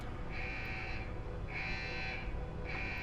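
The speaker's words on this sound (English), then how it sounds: "As soon as you start hearing the alarms." A repeating electronic alarm in the video game Deus Ex: Human Revolution, blaring in three long pulses of about a second each over a dense, rumbling background, with no talking.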